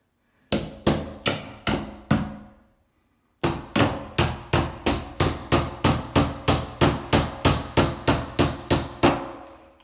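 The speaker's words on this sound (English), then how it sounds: "And we're going to tap that down with a hammer." Sharp metallic hammer taps on a door hinge pin, close and loud: four strikes, a pause, then a long steady run of about eighteen evenly spaced blows.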